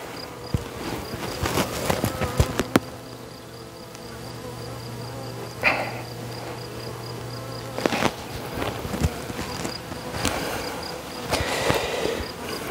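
Honeybees buzz close by, in and out of a hive, as a keeper catches a bee and blows on it to push it inside. The buzzing comes in swelling bursts over a steady low hum, with bumps and handling noises between.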